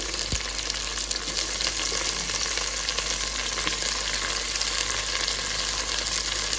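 Chopped tomatoes fry in a pan for a curry-leaf vegetable pulao, a steady close sizzle running unbroken throughout with faint stirring clicks, no voices.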